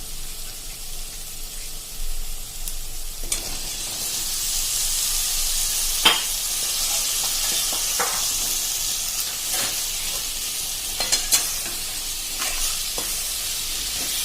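Medium potato pieces sizzle in a hot pan for aloo matar, a steady frying hiss with occasional scraping stirs and light clatters of the spoon against the pan.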